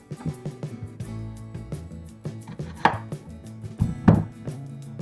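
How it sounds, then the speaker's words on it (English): A knife cuts zucchini into pieces on a cutting board, with a series of close, uneven chopping thuds and taps, two of them sharper and louder near the end. "I'm just going to cut this into sizes that'll fit into a food processor"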